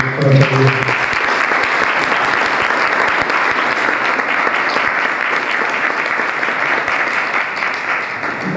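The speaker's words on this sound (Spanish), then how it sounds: "Un aplauso para la doctora" Loud, sustained applause from an audience for a speaker at an academic science event, dense continuous clapping with a few sharper individual claps and a brief voice at the very start.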